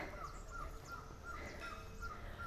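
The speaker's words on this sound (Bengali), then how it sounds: "শুনতে পাচ্ছেন পাখির ডাক।" Birds call and crows caw on a quiet hilltop in Uttarakhand, repeated short calls at a distance over faint wind-like ambience.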